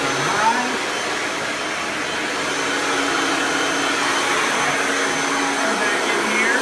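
Kirby Ultimate G Diamond Edition upright vacuum running on high, a loud continuous whirring motor drone with airflow hiss, steady throughout with only slight shifts in pitch.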